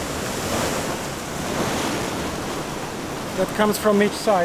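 Steady rushing surf churns and swirls close by against rocks into a whirlpool off Madeira, with wind noise over the water and a brief voice near the end.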